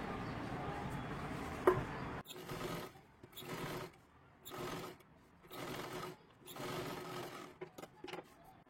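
A domestic sewing machine stitches a katori blouse, first in one long continuous run and then in several short bursts separated by pauses, a steady mechanical whir at moderate volume.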